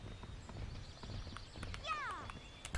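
Horse hooves clip-clop in a Barbie riding video game, a steady near walking rhythm that ends in a short whinny, with a player talking over it.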